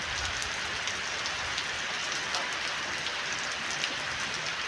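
Steady torrential monsoon rain pours down continuously in a village, a dense broadband hiss with scattered drop impacts, no voices.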